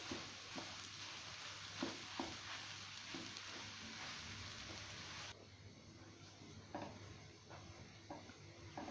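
Makhandi halwa roasting in a pan gives a steady, soft sizzle and frying hiss, with faint stirring scrapes and taps scattered throughout and no speech.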